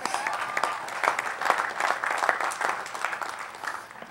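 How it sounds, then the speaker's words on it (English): Graduates at an engineering and computer science commencement ceremony applaud in a dense, sustained wash of clapping from a large crowd, moderately distant and even throughout. "Give yourself an applause."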